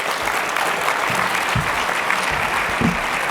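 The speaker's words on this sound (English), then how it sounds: "Give these three gentlemen a round of applause." Dense, steady applause from a conference audience at a genomics plenary session, a close, even roar of many hands clapping at once without break.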